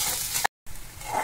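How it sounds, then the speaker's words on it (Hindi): Onions frying in a pan for poha, a steady broadband sizzle with light stirring scrapes, broken by a brief cut to silence midway before the sizzle resumes. "हम इसमें अपना प्याज डालेंगे, इसको थोड़ा सा हिलाएंगे।"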